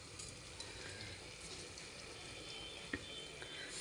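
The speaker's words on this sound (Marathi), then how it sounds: "आता पाणी टाकते मी" Water poured into a pot of rice while cooking pea rice, a quiet, continuous splashing trickle with one small knock near the end, no speech.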